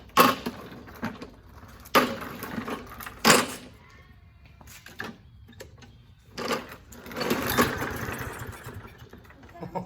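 Toro Recycler 22-inch push mower, just tuned up with a blade change, being pull-started: several sharp cranking bursts, then a sputtering engine catching and running rough before settling, close by.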